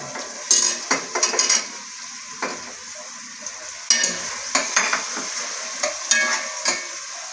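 Onion and garlic sautéing in a pan, with a continuous sizzle under repeated scrapes and clanks of a spoon stirring against the metal, coming in uneven bursts at close range.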